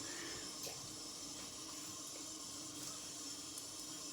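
Water splashing at a sink while the face is wetted for shaving, a soft continuous running and splashing with no voices.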